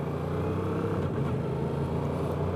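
Yamaha R7 motorcycle engine running steadily at the start of a ride, a continuous low rumble with a constant level throughout and no talk over it.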